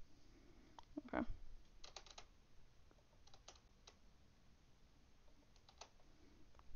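Quiet, scattered keystrokes on a computer keyboard: a quick cluster of clicks, then sparse taps and short runs of typing against a soft background hum.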